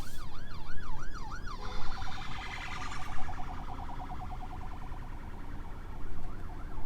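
A Tesla police car's siren wails nearby, first in a rapid rising-and-falling yelp, then switching to a quicker pulsing warble over road noise, with a brief return of the yelp near the end.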